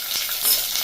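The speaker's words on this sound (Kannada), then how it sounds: "ನೋಡಿ ಈಗ ಈರುಳ್ಳಿ ಹಾಕ್ಕೊಂಡೆ, ಕ್ಯಾರೆಟು, ಹಸಿಮೆಣಸಿನ್ಕಾಯಿ ಹೆಚ್ಚಿಟ್ಟಿದ್ನಲ್ಲ 4," Sliced onion, carrot and green chillies fry in a pan, giving a steady close sizzle with faint stirring scrapes, and nobody talks over it.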